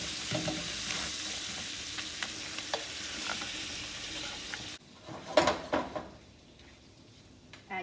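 Shrimp with a dollop of butter sizzling in a pan, loud and continuous up close, then the hiss drops away abruptly and is followed by clinks and scraping of the pan.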